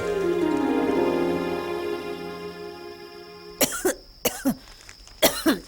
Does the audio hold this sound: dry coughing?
yes